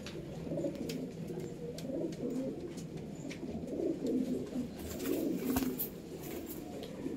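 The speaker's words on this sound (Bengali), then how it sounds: "একটা জনার্ডেন পায়রা আছে।" Jonarden pigeon from the Netherlands, kept in a home breeding loft, coos in low repeated throaty rolls that swell and fade over several seconds, close by and steady with no talk.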